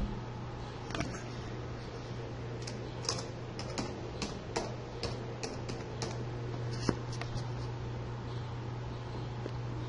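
Someone types text on a computer keyboard, with irregular bursts of light keystroke clicks over a steady background hum, close and fairly quiet, with no voices.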